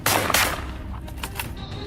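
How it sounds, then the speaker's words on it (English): A rapid burst of gunfire rattles out at close range during a wild boar hunt in fields, several quick loud shots followed by fainter trailing pops. "a rapid burst of gunfire erupts"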